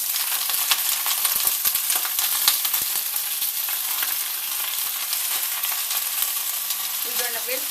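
Baby spinach sizzles in butter in a hot pan, a dense continuous frying crackle with clicks of stirring, close and steady.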